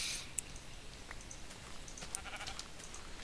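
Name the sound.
sheep bleating in Minecraft video game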